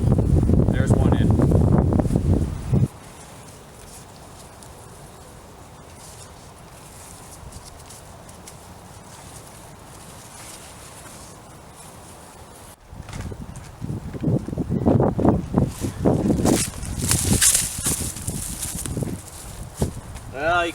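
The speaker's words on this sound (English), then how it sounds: "you can see just how windy it really is right now" Gusty wind roars against the microphone, with a low steady rush through the middle and louder buffeting at the start and end, where a voice speaks.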